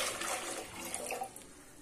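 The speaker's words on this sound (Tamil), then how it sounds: "இப்போ மீதி இருக்கிற தண்ணியும் ஊற்றிக்கிறேன்." Water being poured into a pressure cooker while making one-pot sweet and savory pongal, a steady splashing gush that gradually eases off.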